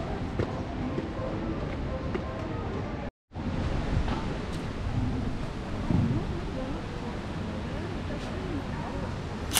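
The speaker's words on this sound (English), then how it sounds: "let's hope this rain is going to last." Rain falls steadily in the city at the Barbican in London, a dense, continuous hiss that cuts out for a moment and then resumes.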